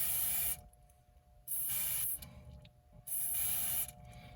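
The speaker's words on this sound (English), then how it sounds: "I'm going to take my can of DEOXIT that has a tube on it" DeoxIT contact cleaner sprayed through a thin extension tube from an aerosol can into the chip sockets of a Commodore PET 2001 computer: three close, sharp hissing bursts of about half a second to a second each, separated by brief pauses.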